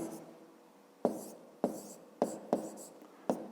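A pen writes on paper during a fifth-grade maths exercise, with five sharp taps and short scratching strokes spaced unevenly.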